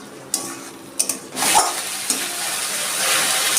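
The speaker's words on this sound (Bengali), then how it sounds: "আমি মশলাটাকে ভালো করে একটু কষিয়ে নেব যতক্ষণ না পেঁয়াজ রসুনের কাঁচা গন্ধটা চলে যায়।" Onion-garlic spice paste fries in a pan for a fish curry, a steady sizzle punctuated by a few sharp clinks and scrapes of a spatula stirring the masala.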